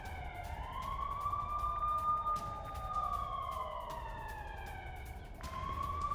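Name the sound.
air raid sirens sounding in Jerusalem after Iranian missile attack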